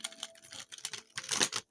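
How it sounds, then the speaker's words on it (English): A stiff cardstock deck of playing cards being shuffled: quick bursts of crisp, papery clicks and riffles close to the microphone, ending in a louder flurry, then silence. "This is a tough deck to shuffle. It's very cardstock-ish."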